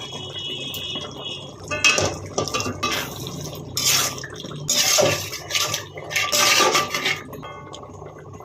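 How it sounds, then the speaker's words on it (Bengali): Leftover sour yogurt is added to a pan for doi chingri, a prawn curry, with wet plops, scraping and clinks of a spoon against the pan in uneven bursts, fairly close. "এবার বাকি যে টক দইটা ছিল সেটাও দিয়ে দিচ্ছি।"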